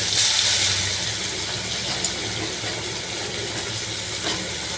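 Chopped onions dropped into hot oil seasoned with nigella seeds and dried red chillies, a loud, steady frying hiss that stays constant throughout, with a couple of faint clinks and no talk.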